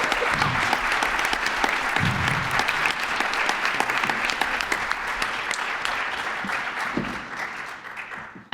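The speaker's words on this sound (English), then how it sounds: "Let's give a round of applause to our students." An audience applauds students at a panel event on pluralism and democracy, steady loud clapping filling the whole stretch with a few scattered louder claps, then tapering slightly at the end.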